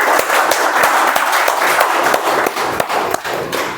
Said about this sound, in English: Let's give a huge round of applause again to everyone